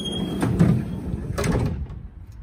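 A door opening on a 2017 Mercedes Sprinter 4x4 camper van as the automatic step deploys, giving two close, loud mechanical sweeps about a second apart, the second tapering off into quiet.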